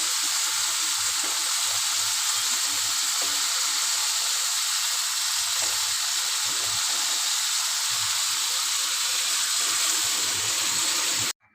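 Ground mustard and poppy seed paste hits a hot pan for an okra chorchori, giving a dense, steady close-up sizzle that holds at an even level throughout and then cuts off abruptly, with no talking.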